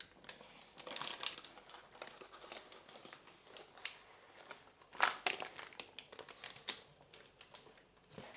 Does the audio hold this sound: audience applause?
no